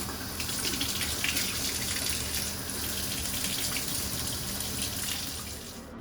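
Tap water runs in a steady, close, moderately loud rush over a hydro-dipped shotgun foregrip being rinsed, then trails off at the very end.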